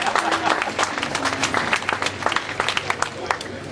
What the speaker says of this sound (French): vous les applaudissez encore très fort